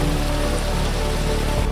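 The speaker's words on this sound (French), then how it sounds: "Parce que ouais, il pleut." Rain falls steadily on a barefoot high-mountain hike, giving a dense, even hiss of drops hitting surfaces throughout.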